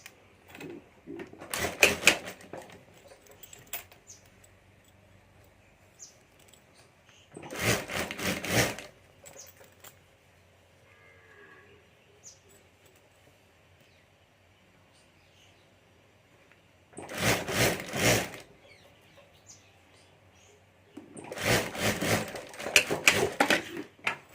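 A sewing machine stitches a fabric handbag strap in four short bursts of rapid needle clatter, close and fairly loud, separated by quiet pauses.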